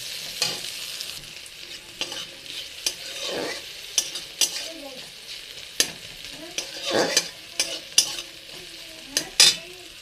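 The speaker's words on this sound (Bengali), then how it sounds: "বেগুনগুলিকে আমি হলুদ লবণ দিয়ে ভেজে নিচ্ছি" Aubergine pieces with turmeric and salt sizzle gently in oil in a pan, broken by repeated scrapes and stirs of a utensil at irregular intervals. The sounds are soft and close, with no talking.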